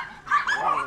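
A single dog bark inside a kennel enclosure at a pet food research centre, one short close yelping burst under a second long.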